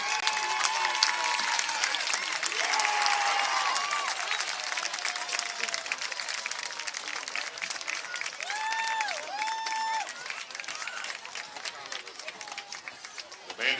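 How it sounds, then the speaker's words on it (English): A crowd applauds the Tiger Pride Marching Band at a high school football game, Ozark vs Republic, with steady broadband clapping and cheering running throughout, mixed with crowd voices and a few high whistled tones. "nice round of applause for your Tiger Pride Marching Band"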